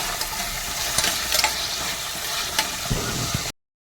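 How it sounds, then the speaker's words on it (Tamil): Coconut, garlic and ginger sautéing in a pan for fish curry, with a steady close sizzle broken by a few sharp scrapes and stirs before it cuts off abruptly. "தேங்காய், வெள்ளைப்பூடி, இஞ்சியையும் போட்டு நல்லா வதக்கிடுவோம்."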